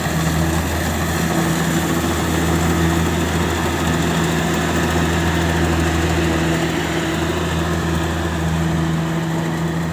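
A rice combine harvester runs continuously in the field, its engine a loud, steady droning hum with mechanical rattle layered on top and no change in pitch throughout.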